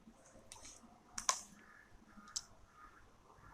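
Python code being typed on a computer keyboard: a few scattered, quiet key clicks with one sharper cluster of taps, faint and close, without speech.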